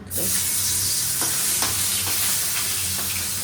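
Loud, continuous sizzling of small puti fish frying in hot oil in a wok, with sharp crackles and pops scattered throughout, no voices.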